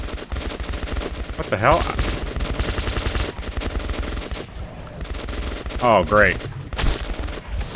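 Gunfire in the Metro PC shooter game, with sustained automatic bursts and heavy shots going off loud and continuous across the whole stretch, and brief whooshing effects. Someone talks over the shooting.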